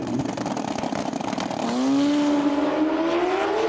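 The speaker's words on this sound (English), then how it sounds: "Wheelies from both bikes. It's close at half track." Super street motorbikes drag racing side by side down a strip at an ACU event, engines roaring loud and close, one rising sharply in pitch as it accelerates hard with a steady, unbroken howl.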